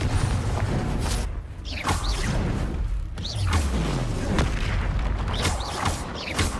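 Confringo blasting spell explosions in the video game Hogwarts Legacy, repeated booming blasts with whooshing swishes of spellcasting in a dense, loud sequence during combat.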